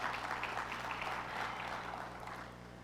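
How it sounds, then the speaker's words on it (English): Audience applause fills a community meeting on neighborhood violence in Winston-Salem, North Carolina, a steady, fairly quiet wash of many hands clapping throughout with no distinct voices. "I think that yields a round of applause."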